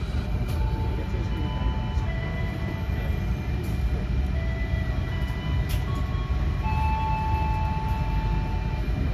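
An Indonesian Joglosemarkerto economy-class passenger train runs after leaving Lempuyangan station in Yogyakarta, heard from inside the carriage as a constant loud rumble and roar with faint wheel squeals and tones above it, no clear talk.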